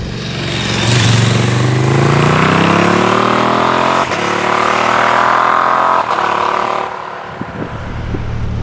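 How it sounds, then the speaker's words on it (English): A KTM Super Duke R with a big V-twin engine revs up loudly and steadily, its rising harmonic whine climbing over several seconds with brief dips in between, close and alone. "They spent a lot of development time minimising the vibrations from this big,"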